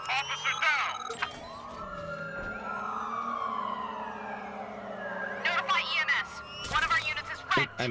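Police car siren in the video game Watch Dogs 2, a wailing tone rising and falling steadily for several seconds under bursts of game noise and speech.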